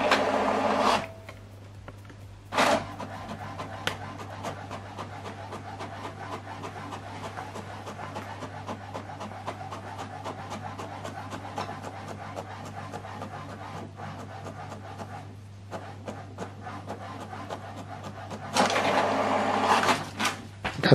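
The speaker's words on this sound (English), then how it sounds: "So now printing this document page 2 and 3." An HP DeskJet printer prints document pages, giving a continuous mechanical whir with rapid rhythmic clicking and a steady low hum, plus louder paper-feed bursts at the start and end, close and alone.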